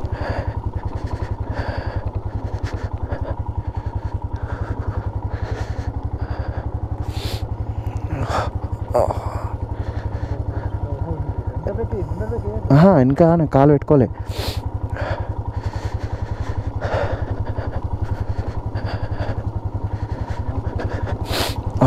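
A motorcycle rumbles steadily on a rough diversion road while off-roading in Ladakh, with a continuous close engine drone, bumps and clatter, and someone talking over it.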